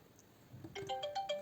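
A phone ringtone, set off by an incoming call from a 4G solar-powered security camera, starts after a quiet moment and plays as a bright, repeating melodic tune at moderate volume.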